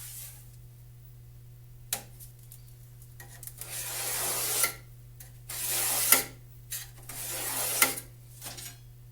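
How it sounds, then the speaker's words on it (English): A scriber drags along a straight edge to mark a cut line while a center console box is fabricated, making several rasping scraping strokes of rising length over a steady low hum. "So now I can lay it out, scribe my mark, and we can cut it to the right dimensions."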